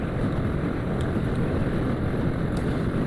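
A motorbike rides across the Rupsha bridge near Khulna, its engine and rushing wind forming a loud, steady broadband roar with no breaks.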